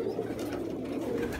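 A large, healthy pigeon coos softly nearby, a low, faint, continuous murmur over a quiet background.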